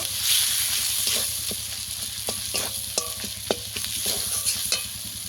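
Chili powder and spices for a bom fish curry fry steadily in a pan, with a constant bright sizzle and scattered sharp ticks and scrapes of stirring throughout.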